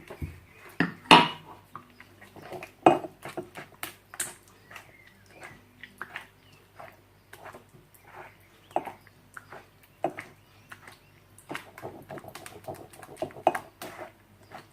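Cake batter is mixed with oil in a bowl, giving irregular clinks, scrapes and knocks of utensil against the bowl, close and fairly quiet, with brief pauses between strokes.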